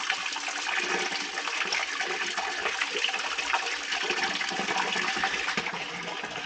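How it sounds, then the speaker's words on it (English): Water gushes steadily from the drain valve at the bottom of a water heater being flushed, a continuous loud splashing rush with no talking. "Just letting it kind of flush out the bottom of this thing."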